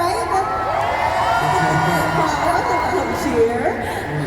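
A crowd cheers and whoops at a live press conference in Manila, a dense mix of excited shouting voices sustained throughout, loud and close.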